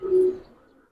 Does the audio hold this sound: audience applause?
no